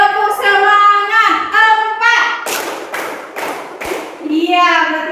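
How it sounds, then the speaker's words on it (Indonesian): Schoolchildren repeat the 'tepuk semangat' classroom clapping routine, their voices chanting before a quick burst of loud, rhythmic group claps that gives way to chanting again. "Sekali lagi, tepuk semangat"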